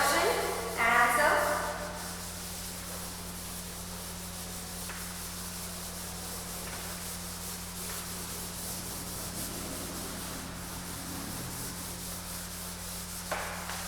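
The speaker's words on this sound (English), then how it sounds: "And now I have to rub it out to write another question and answer." Written text is rubbed out by hand in a soft, steady scrubbing that continues for several seconds, quiet and close, with a few faint voice sounds near the start.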